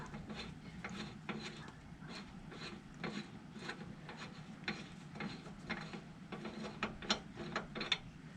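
A ratchet cranks out a jammed RV slide-out by hand, making quick repeated clicking and grinding mechanical strokes in an uneven rhythm, fairly faint and close, with no voices.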